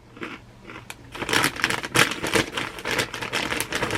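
Light-colored, crispy fried pork rinds are chewed close up, giving a run of crisp crunches and crackles that grow louder and denser after a quiet start.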